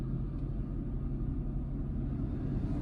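A steady low whooshing drone of the air conditioning blower fans in a 2010 Jaguar XF (X250) runs continuously, broadband and even, with no voices or other sounds.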